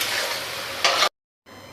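Ginger and two green chillies are stirred in hot oil in a pan, giving a steady close sizzle with a brief louder scrape, then a cut and fainter sizzling.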